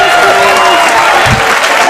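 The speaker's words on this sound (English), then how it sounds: "Please, a nice round of applause for Mr." Comedy club audience applauding a comedian's introduction, a steady wash of clapping with some crowd noise, loud and continuous throughout.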